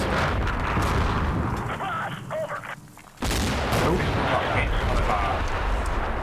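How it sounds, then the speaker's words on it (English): Mortar rounds land in the wargame Combat Mission: Racing the Moon '82. Loud, dense booming explosions and gunfire roll continuously, drop off briefly, then hit again in a heavy barrage. "So there's the mortars starting to come in."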